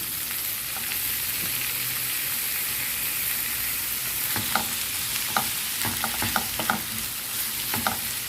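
Frozen ground pork goes into hot oil with chopped garlic and sliced onion, giving a steady, moderate sizzle while a spatula scrapes and taps the pan in scattered strokes during the latter half.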